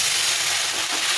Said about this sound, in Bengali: এর মধ্যে এখন আমি বাকি সবজিগুলো দিয়ে দেবো